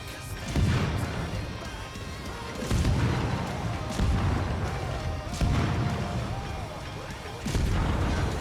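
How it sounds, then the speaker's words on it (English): Naval guns of the battleship New York fire in World of Warships, sending repeated booming salvos every couple of seconds with rumbling tails while someone talks over the gunfire. "I'm going to go around the other side of the New York and just open up with the guns"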